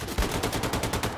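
Rapid gunfire from a weapon in the shooter game Wolfenstein II, a dense burst of shots in quick succession, loud and close, with no talking.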